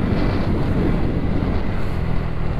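Motorbike engine running during a ride, a loud, steady low drone mixed with heavy wind rush, with no talk.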